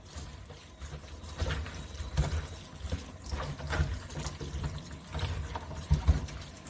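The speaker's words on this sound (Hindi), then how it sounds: "भिंडी को इस तरह से एक स्ट्रेनर में डाल के बहुत अच्छे से हम इसको धो लेंगे" Okra being washed in a strainer under running tap water, a steady close splashing trickle with small surges and clatter, no talking.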